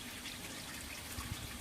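Water runs steadily through an aquaponic growbed set up for constant flood, a faint continuous trickle and wash with a few small gurgles near the end and no talk.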